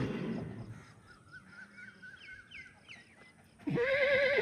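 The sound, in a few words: restless foal calling out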